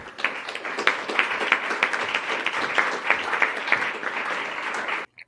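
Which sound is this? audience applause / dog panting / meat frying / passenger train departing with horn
audience applause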